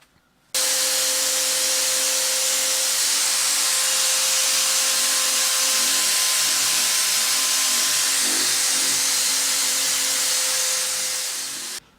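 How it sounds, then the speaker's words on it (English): Electric drill with a 1-inch (25mm) sanding drum shaping a wooden rocking-horse head, a loud continuous high whirring hiss with a steady motor tone, starting abruptly and running alone for about eleven seconds. "I'm going to use a power sander, a little 1-inch 25mm sanding drum in a drill"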